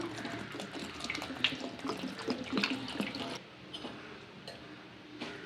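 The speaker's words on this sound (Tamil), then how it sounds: "தேவையான அளவுக்கு தண்ணி ஊற்றிக்கலாம்." Water runs steadily from a tap into a cooking pot of lentils for sambar with a splashing, filling sound for about three seconds, then stops, leaving quiet drips and clinks.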